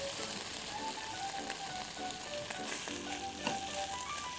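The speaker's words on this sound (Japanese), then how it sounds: "ニンニクの香りが出たらベーコンを加えます。 しめじを入れます。" Bacon and shimeji mushrooms frying with garlic and chili over low heat: a steady, even crackle with small pops and faint stirring, plus soft tonal sounds in the background.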